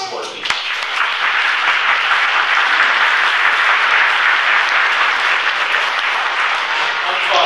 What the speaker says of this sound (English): I'd just like to ask everybody to join me in a round of applause recognizing our students and all of our families and support people.